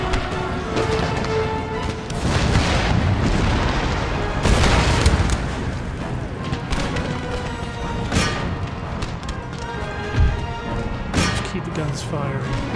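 Artillery shells fire and explode in a battle in the strategy game Empire: Total War, with heavy booms and thuds recurring irregularly over a loud battlefield din.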